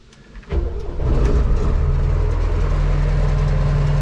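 A John Deere 1042 combine harvester engine cranks briefly and catches, then settles into a loud, steady low rumble with an even throb, heard up close in the field.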